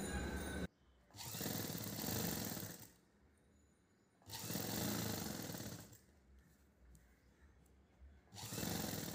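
A sewing machine stitching piping onto a round neckline runs in three loud bursts of steady whirring, each a couple of seconds long, separated by quiet pauses, close by with no talk.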